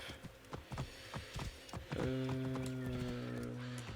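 Horse hooves clip-clop in a quick uneven rhythm in Assassin's Creed Origins, set in Siwa, then give way to a sustained tonal game sound; the clip is fairly quiet.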